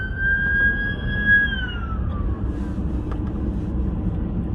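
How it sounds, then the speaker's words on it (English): An ambulance siren wails in Minot, North Dakota, its tone sliding and dropping in pitch as it passes, then fading away under steady traffic rumble. "I'm guessing it's an ambulance heading in"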